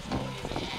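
Sheep bleat close by during shearing on a South Downs walk, with short overlapping cries over a steady bed of pen and crowd noise, a few distinct calls standing out through the brief moment.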